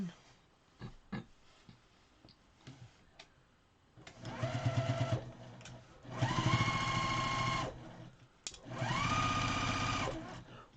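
A sewing machine stitches a quilt-as-you-go quilt, running in three sustained whirring bursts with a steady mechanical hum, close and clear, preceded by light handling clicks and taps.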